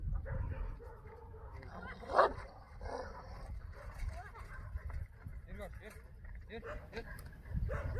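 A Turkmen Alabay dog whimpers and gives a sharp yip, fairly faint, under ongoing talking.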